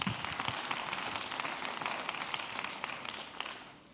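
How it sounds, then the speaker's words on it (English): Crowd applause at a leadership conference concert: a dense, fairly soft wash of many hands clapping, heard from some distance and tapering off toward the end, with no voices. "So give yourselves a round of applause."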